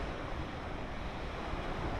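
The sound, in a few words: waves on Onslow beach, Australia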